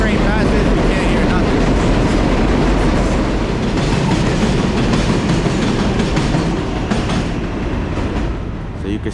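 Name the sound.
7 subway train passing loudly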